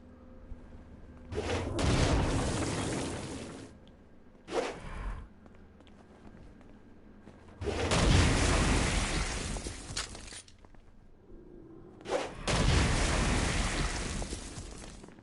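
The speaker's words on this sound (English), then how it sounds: "Stone Blast is especially useful on flying demons like this one." Stone Blast attacks in Saints Row: Gat Out of Hell land as four heavy, gritty crunching blasts, each a loud rumbling burst lasting a second or two, separated by quieter gaps.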